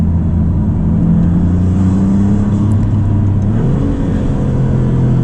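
A turbocharged 2024 Maserati MC20 accelerates on broken pavement, its engine note a loud, close, steady drone that climbs in pitch, drops briefly at a gear shift, then rises again, with road rumble underneath.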